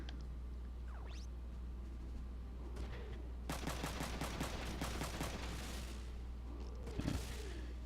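Gunfire from Ryogo's double gun attack in Front Mission 3 comes as a rapid burst of sharp, evenly spaced shots in the middle of the clip, over a steady low hum, followed by a fading mechanical whir.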